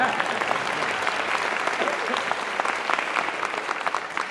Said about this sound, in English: Okay, give yourselves a round of applause.